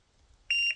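A single sharp electronic shot-timer beep sounds abruptly after near silence during a pistol training drill, loud, steady and short.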